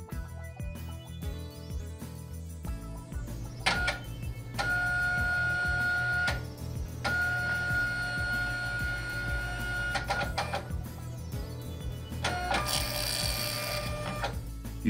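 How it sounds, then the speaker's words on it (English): A Zebra ZT230 label printer restarts and prints a configuration label, giving steady mechanical whirring and motor hum with tonal beeps and changing pitches, close and alone without talk. "Wait for the printer to restart and print a configuration label."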